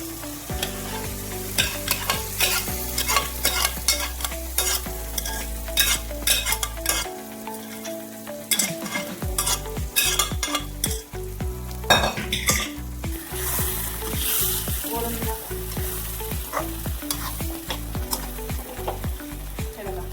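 Mashed vegetables for pav bhaji sizzle and fry in a pan while a spoon stirs and scrapes repeatedly against the metal, a busy clattering rhythm for about twenty seconds with no speech.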